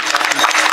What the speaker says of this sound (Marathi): ह्यांच्याकरता टाळ्या होऊ दे एकदा.